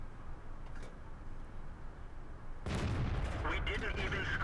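Main gun of a T26E4 Super Pershing tank firing in World of Tanks, a single loud, sudden blast partway through followed by a rolling echo, over quieter engine rumble beforehand.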